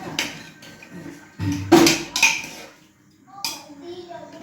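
A ladle mashes potatoes in a pot of fish curry, giving several metallic knocks and scrapes against the pot in uneven bursts, close, with a voice talking between them.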